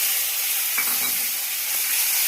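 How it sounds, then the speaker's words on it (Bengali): Chopped onions sizzle and fry in a pan with a steady, bright hiss, while a spoon stirs them through, adding faint scraping under the continuous crackle; no one speaks. "পেঁয়াজটা একটু নেড়ে চেড়ে ভেজে নেব।"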